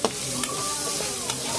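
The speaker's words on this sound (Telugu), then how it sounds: "అల్లం వెల్లుల్లి పేస్ట్ బాగా వేగిన తర్వాత" Ginger garlic paste fries in a pan for a home-cooked chicken curry, giving a steady close sizzle with faint stirring scrapes and no talk.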